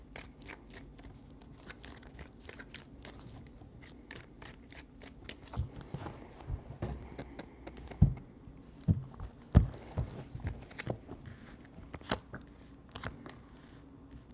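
Tarot cards shuffled by hand in three rounds, a soft continuous riffle and slap with a few sharper clicks and taps in the middle, close and fairly quiet, with no talking.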